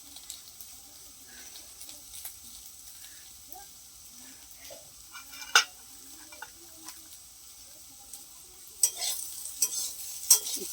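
Potatoes and bitter gourd fry in a wok with a steady, soft, close sizzle. Scattered spatula scrapes and clicks punctuate it, with a few louder stirring bursts toward the end, and no one speaks.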